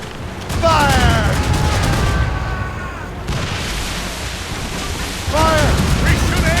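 Ship cannon volleys in Assassin's Creed Rogue, a loud, sustained barrage of booming shots and rumbling fire across the whole stretch, with shouted voices cutting in over the battle noise.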